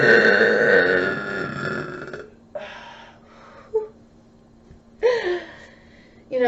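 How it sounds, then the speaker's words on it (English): A woman lets out a long, loud, drawn-out burp, followed by a few shorter, softer burps and gasping sounds spaced apart over a quiet background hum. "pretty soon I think I'm gonna fill this entire fucking house with my burps"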